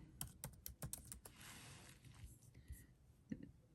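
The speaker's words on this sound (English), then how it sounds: "Maybe not about my typing" Quick keyboard keystrokes click in a burst at the start, then fade into a soft hiss with a few scattered taps and faint breathy sounds.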